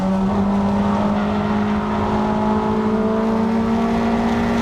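Onboard engine note from a Toyota MR2 race car lapping Snetterton circuit, a loud steady droning tone rising slightly in pitch as the car accelerates, with wind and road roar underneath and no talk.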